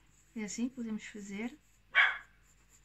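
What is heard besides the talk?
small dog barking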